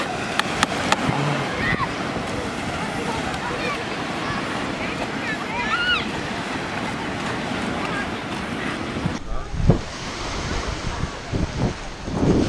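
Sea waves wash steadily onto a shore while wind buffets the microphone with a dense roar, and the sound shifts to choppier splashes near the end.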